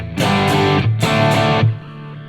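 Distorted electric guitar through an amp-profile clone with the mids scooped out, a couple of loud chugging chord strums with a thick saturated tone, close and alone before a brief fade.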